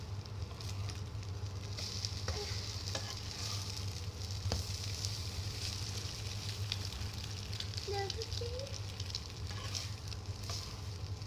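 Continuous crackling sizzle of food frying in a pan, steady and close, with scattered clicks and a faint voice in the background.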